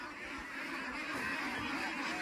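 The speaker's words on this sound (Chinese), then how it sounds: "这么远都听到鸭子在叫" Farm-raised ducks quacking in the distance, a faint but continuous chorus of nasal honking calls over low outdoor background noise.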